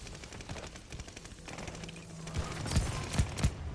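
Allied gunfire crackles in a video game, with rapid bursts of shots that grow louder and more distinct toward the end, including a few sharp, close reports. No voices are heard.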